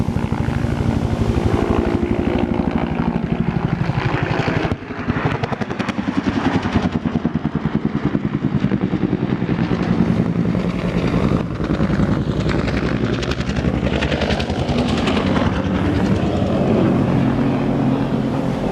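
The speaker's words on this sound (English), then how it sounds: "You've got surface, helos, and jets all in the same space at the same time." Military helicopters and jets crowd the same airspace during an amphibious assault demonstration, producing a loud, continuous roar of rotors and engines overhead with a brief dip partway through, no voices.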